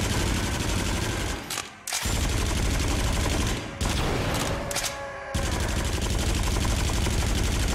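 Rapid, dense gunfire from the VR shooter game Until Dawn: Rush of Blood, a loud continuous fusillade of shots with brief gaps near two and five seconds before firing resumes.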